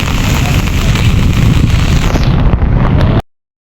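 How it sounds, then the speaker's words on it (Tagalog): Big sea waves crash and churn in a loud, continuous roar, with heavy wind buffeting the microphone throughout before the sound cuts off abruptly near the end. "Nagluluputan po ng alon."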